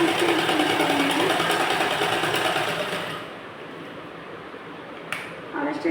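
A sewing machine stitches a blouse neckline, its motor running in a steady close whir for about three seconds and then dropping to a quieter, lighter hum, with a sharp click near the end.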